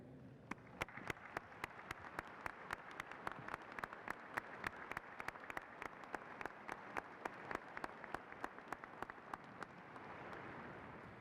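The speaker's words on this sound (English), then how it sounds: "I would like to ask the members of our distinguished faculty to stand and accept our applause" Graduates and guests at a university business and health college commencement applaud the faculty, steady crowd clapping punctuated by a few sharp, distinct nearby claps, fading slightly toward the end.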